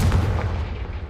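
A single booming blast from the Confringo spell in the Hogwarts Legacy video game, loud and close, trailing off into a short rumbling decay.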